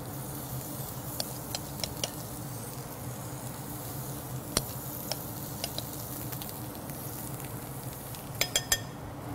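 Marinated prawns sizzle on a grill, a quiet, steady frying hiss broken by scattered sharp pops and crackles, a tight cluster of them near the end.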